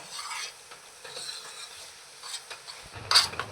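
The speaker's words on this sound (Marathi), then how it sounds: "कमीत कमी 5 ते 7 मिनिटं मिश्रण असंच सतत ढवळत राहायचं आहे." A spoon stirring a thickening coconut barfi mixture in a pan, soft scraping and faint sizzle at low volume, with a sharper clink of utensil against the pan near the end.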